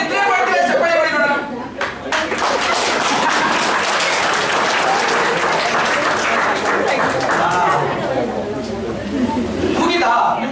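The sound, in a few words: audience applause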